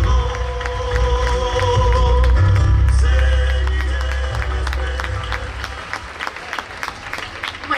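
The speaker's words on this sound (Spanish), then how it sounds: "este aplauso de todo Coronel Dorrego para la Paisana Flor Saliente" Crowd applause for the Paisana Flor at the Fiesta Provincial de las Llanuras in Coronel Dorrego, sustained loud clapping over background music and low hum.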